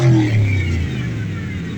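A deep truck V8 engine revs up close, its low rumble swelling then settling into a rough, steady roar.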